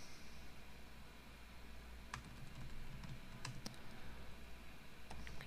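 Computer keyboard typing during a Webpack coding session: a steady run of soft clicking keystrokes over a constant low hum, with a few sharper key taps standing out, close and moderately quiet, no talking.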